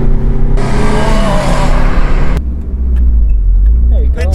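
A 1995 Dodge Neon accelerates hard in third gear, its engine droning loud and close from inside the cabin before a gear change and continued road rumble, with people talking.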